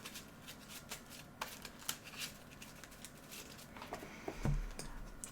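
A Yu-Gi-Oh card deck being shuffled by hand, soft close riffling and card slaps in quick irregular bursts, quiet with no talking.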